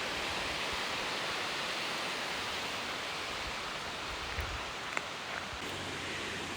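The Sultan River in Washington rushes steadily nearby as a continuous broadband wash of flowing water, with a few faint ticks and footstep-like knocks late on.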